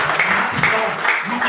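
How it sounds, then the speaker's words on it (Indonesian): Church congregation clapping at a Sunday worship service, a steady dense patter of many hands without pause and fairly close. "Saudara, berikan tepuk tangan bagi Tuhan"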